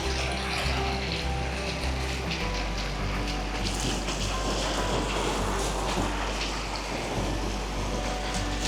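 River water rushing beside a mountain trail near Timure village on the Nepal-China border, a steady, loud broadband roar with a low hum underneath, without any talk.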